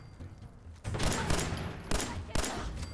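Rapid bursts of gunfire from the video game Fallout 4, loud and close, with sharp volleys starting near one second and further cracks around two and two and a half seconds, heard without talk.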